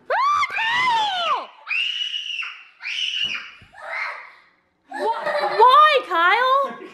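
High, piercing screams and squeals come in bursts separated by short pauses, close and loud, with giggly, laughing tones mixed in, from someone grossed out by something in a clothes dryer.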